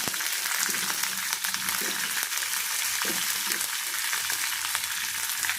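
Green chillies fry in a pan for a peanut and coconut chutney, making a dense, even sizzle that runs unbroken from start to finish, close and loud, with no talking.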